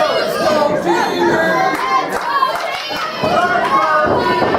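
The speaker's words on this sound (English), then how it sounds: "Let's go TV chants from the crowd" A wrestling crowd at an independent show chants and shouts in rhythmic bursts, many voices blending into a loud, lively din throughout.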